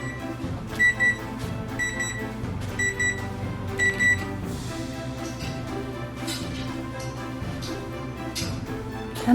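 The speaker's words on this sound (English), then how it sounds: "Somebody hears the timer." A kitchen oven timer sounds during chocolate chip cookie baking, four spaced pairs of shrill beeps over a steady background hum, fairly clear and close.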